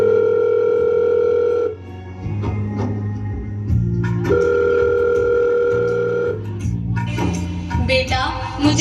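During a phone call in a school annual day skit, a phone line rings back in two long steady electronic tones separated by a pause, loud and close, with faint background sounds between them.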